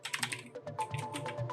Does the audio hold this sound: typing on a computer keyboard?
yes